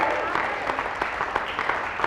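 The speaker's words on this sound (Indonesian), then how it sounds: "Berikan tepuk tangan yang meriah untuk Tuhan." Church congregation applauding during a sermon, a steady dense wash of clapping from many hands filling the room for the whole stretch.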